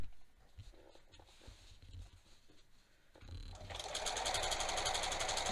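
A sewing machine stitches elastic onto a waistband facing finished with bias tape. Quiet handling comes first, then the motor starts up and runs steadily and loud in a fast, even buzz until the end.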